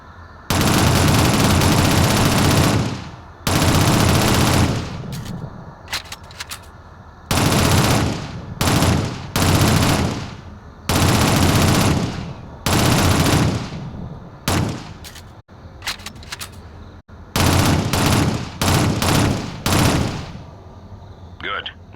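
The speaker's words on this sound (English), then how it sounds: "Use your SMG to clear it now." Submachine gun fire in a video game shooting down an enemy Strangle ability, loud sustained automatic bursts repeated in a stuttering rhythm with short pauses and sharp single shots between them.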